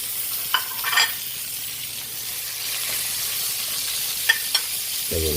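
Pork hits a hot pan of already-cooked garlic, onion and ginger, giving a steady sizzle broken by a few short scraping stirs near the start and again toward the end, with no voices.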